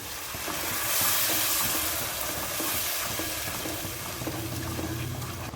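A ground tomato-cashew paste is stirred into a hot frying pan for egg bhurji, making a loud, wet bubbling sizzle with soft scraping strokes, close and continuous, with no talk.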